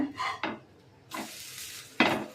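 Banana pancake frying in ghee in a pan, with a few distinct scraping, clattering turns of a spatula as it is flipped, soft sizzle between them.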